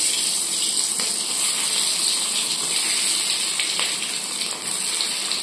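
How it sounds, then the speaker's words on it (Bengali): Potatoes shallow-frying in a little oil in an already hot wok, destined for a vegetarian aloo dum. A steady, loud, close sizzling hiss runs without a break throughout, with no talking over it. "আলুটা ভেজে নেব, আমি এমনি ভেজে নেব আলুটা।"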